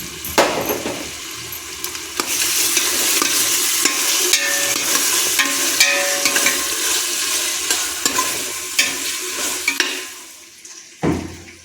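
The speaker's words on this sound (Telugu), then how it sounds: "టమాటాలు వేసేసాను అల్లం వెల్లుల్లి వేసేసేసా" Tomatoes fry with ginger and garlic for tomato rice, giving a steady sizzle broken by repeated scraping and clinking as the pan is stirred, close and without talk.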